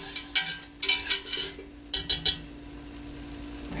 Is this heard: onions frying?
yes